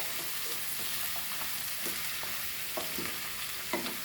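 Raw papaya bhaji being stirred in a pan for a Goan Konkani recipe, with a steady sizzle of frying under soft scraping and stirring strokes, close and continuous, no talk.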